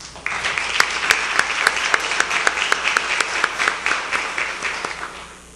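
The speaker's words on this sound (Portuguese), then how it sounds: "Uma salva de palmas." Applause from an audience at a Brazilian housing association presentation, sharp individual claps standing out over a steady dense patter that runs for several seconds before thinning and fading at the end.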